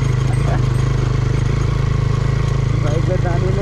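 A motorcycle engine strains on a road, its steady low drone running close and loud through the whole stretch, with voices faintly over it.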